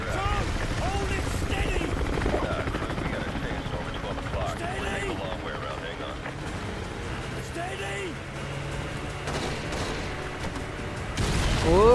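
A helicopter in the video game Call of Duty Modern Warfare 2 drones with steady rotor noise, mixed with game action sounds while someone talks excitedly over it.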